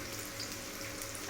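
Spiced tempering for tomato rasam sizzles in a pan, a close, steady hiss that runs without pause for the whole moment and swells slightly at the end, with no talking.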